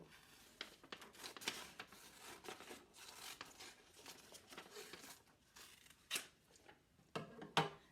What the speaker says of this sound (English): you would take a sheet of paper and you just cut it, fold it in half, and then you cut it in two